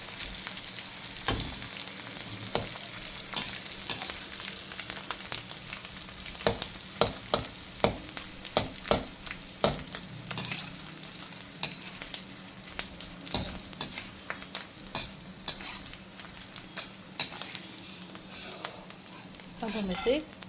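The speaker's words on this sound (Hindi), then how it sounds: "अब सबसे पहले मैं मोटा वाला डाल रही हूँ। ये देखिए एकदम पॉपकॉर्न की तरह से फूट जाता है।" Thick edible gum (gond) puffs up like popcorn in hot fat, a continuous close sizzle dotted with sharp pops and crackles, with stirring clinks and someone talking over it.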